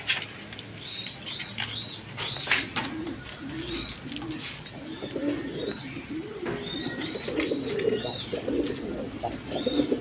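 Pigeons, including a Denis breed pair, coo repeatedly in soft low rolling calls close by at a pigeon farm, with shuffling and faint rustling throughout.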